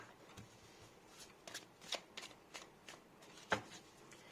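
Tarot cards are shuffled by hand, a quiet run of soft riffling flicks and taps heard close up, with one sharper snap near the end and no talk.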